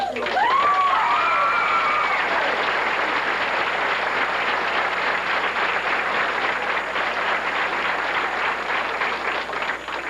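An audience claps after a 1988 school play, Norwood Ducktails & Bobbysox, with loud continuous applause and some cheering that swells at the start and then holds steady for about ten seconds.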